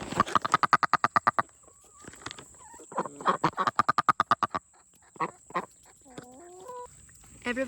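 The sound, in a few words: duck quacking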